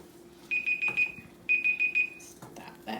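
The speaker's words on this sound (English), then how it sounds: "there goes our timer" Raspberry freezer jam is being made while a kitchen timer goes off, giving two close bursts of rapid high electronic beeps, four or five beeps each, with faint kitchen clatter between and after them.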